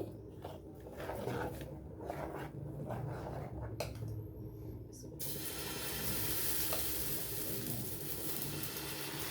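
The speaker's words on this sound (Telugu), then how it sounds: "నూనె వేసి ఇప్పుడు దోశ పోస్తానండి" Pesarattu dosa batter poured onto an oiled pan, a soft, steady sizzle that swells into a broad, louder hiss about halfway through, with faint kitchen clatter before it.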